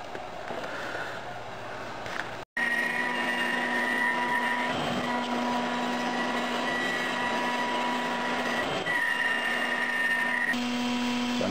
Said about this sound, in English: So I'm cutting the guitar in sections a bit at a time, to make so I can control the cut a little better.